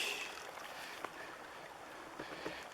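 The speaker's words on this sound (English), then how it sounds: "Here's the beautiful little creek." Small mountain creek flowing in a canyon, a steady soft hiss of running water, faint and continuous with no talking.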